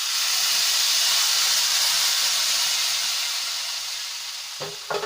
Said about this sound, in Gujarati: ઘીનો તડકો એડ કરવાથી કઢીનો સ્વાદ એકદમ ડબલ બની જશે